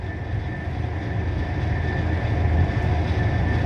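A train runs steadily with a loud, continuous low rumble and rolling hum, heard from inside, with no voices over it.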